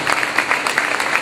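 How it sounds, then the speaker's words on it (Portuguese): A church congregation applauds at a worship service, steady and dense clapping from a crowd filling the whole moment, fairly loud and close. "Aplauda o Senhor por essa palavra."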